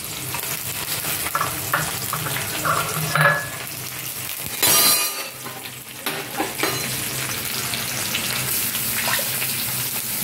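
Chopped ginger sizzles in a hot wok, a dense, loud frying hiss broken by scraping and clattering stirring strokes at close range.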